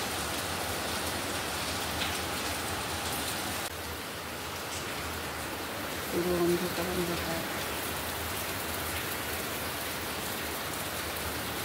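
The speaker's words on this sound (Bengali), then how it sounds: "বৃষ্টি হচ্ছে দেখেছো?" Heavy rain pours down steadily before dawn, a dense, continuous hiss close by with no letup, while a voice speaks briefly over it partway through.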